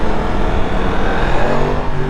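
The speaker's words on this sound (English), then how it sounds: "I absolutely love the sound of an MT10" A Yamaha MT10 motorcycle engine roars loud and close while riding through a city, holding a steady, rough growl for about two seconds with no talk.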